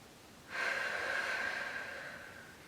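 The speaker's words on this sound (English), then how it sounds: "Let's hold that and take a couple breaths." One long, deep breath is drawn in through the nose and then slowly eased out, a close, airy rush that swells suddenly and fades gradually over about two seconds, with no speech during the breath.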